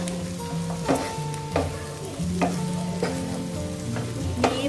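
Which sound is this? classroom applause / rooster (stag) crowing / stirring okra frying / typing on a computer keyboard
stirring okra frying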